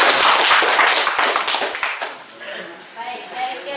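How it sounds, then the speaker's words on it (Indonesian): Classroom applause from a group of students, a dense burst of close clapping for about two seconds that fades out, followed by voices talking. "Beri aplaus ya."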